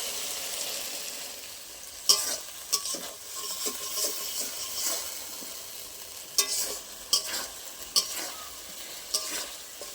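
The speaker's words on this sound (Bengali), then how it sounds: "ভালো করে একসাথে আমি মশলাগুলো কষিয়ে নেব" Spice paste for a paneer curry being stirred and fried in a pan, a steady sizzle with repeated scraping strokes of a spoon against the pan, close and continuous without speech.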